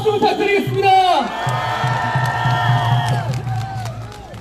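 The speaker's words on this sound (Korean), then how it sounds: "큰 박수 부탁드리겠습니다" Crowd at a political rally cheering and shouting loudly, with whoops and bellowed calls rising over a steady roar that holds through the whole stretch after a brief voice at the start.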